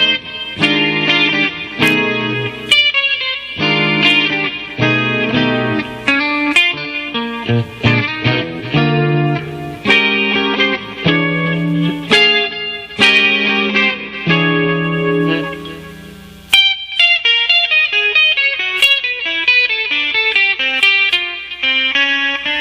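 An electric guitar runs a whole tone scale through effects, with distortion and chorus coloring a rapid stream of bright plucked notes, ending in a ringing descending run.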